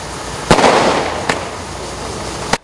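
Firecrackers set off at a meat market to welcome a pig-transport driver's new truck: three sharp, loud bangs spaced about a second apart, each followed by a brief noisy crackle.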